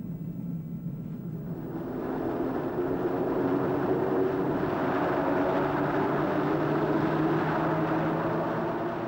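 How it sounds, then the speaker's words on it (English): A hovercraft driven by a single Rolls-Royce gas turbine engine, crossing sand: a steady, broad turbine roar that swells after about two seconds and then holds loud and constant, with no voices. "The craft was powered by a single Rolls-Royce gas turbine engine."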